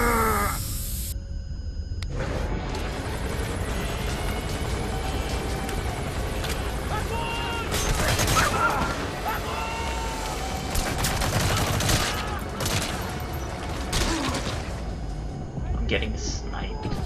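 Sniper fire and other gunshots crackle in a Metal Gear Solid V battle, sharp reports scattered over a busy backdrop of combat noise, with a voice talking at times.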